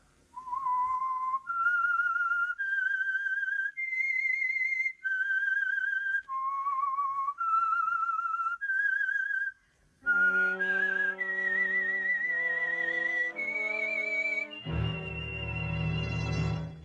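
A clear whistled signal tune of sustained, sliding notes, alone and loud, shifting partway through into a full orchestral passage carrying the melody onward, from a 1947 CBS radio mystery program.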